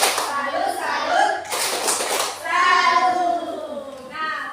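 Children clap in a rhythmic group chant, sharp hand claps in short bursts mixed with their chanted voices, close and lively with brief gaps between phrases.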